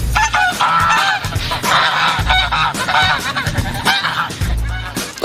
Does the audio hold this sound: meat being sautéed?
no